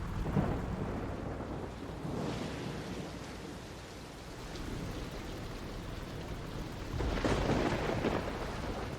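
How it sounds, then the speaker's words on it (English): Steady rain pours throughout a stormy scene in the video game Dragon Quest Treasures, with deep rolling thunder swelling near the start and again louder toward the end; no talking. "it's starting to rain."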